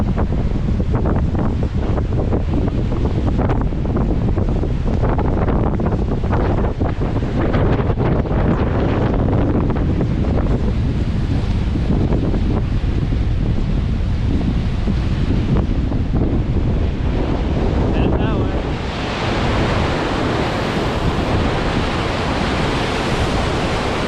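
Strong wind at a lakeshore campsite roars and buffets the microphone continuously, with surf crashing on the shore beneath it, loud and steady throughout without any speech.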